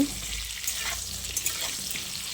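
Pointed gourd pieces frying in hot oil seasoned with a little turmeric hiss in a steady, close sizzle for a potato and pointed gourd korma, with a few soft crackles and no voices.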